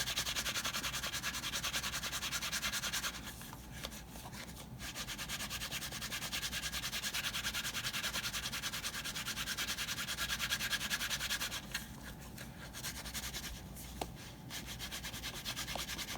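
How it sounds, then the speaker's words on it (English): A thin leather edge for a guitar strap is being slicked by rubbing: a steady, close, raspy back-and-forth friction that continues without pause, with a couple of brief quieter gaps. "it's a little harder to make this thinner leather slick because the leather's folding"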